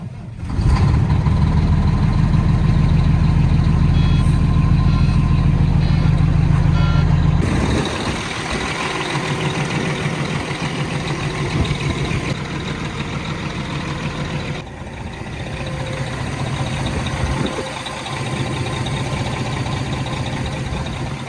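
A retro vehicle engine turns over and settles into a steady, low, rumbling idle nearby, with a faint warning beep early on and the tone shifting partway through.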